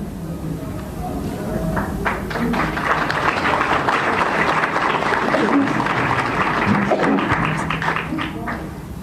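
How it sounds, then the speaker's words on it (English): Audience applause at a political speech by a politician on South Africa's election, a steady crowd-wide clatter of clapping running the full length, loud and dense, with a voice speaking faintly underneath. "we must applaud the people of South Africa for making history"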